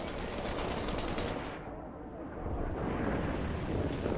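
Machine guns on a Merkava Mk.2B main battle tank fire in War Thunder, a dense, loud, continuous roar of gunfire that dips briefly in the middle before surging back.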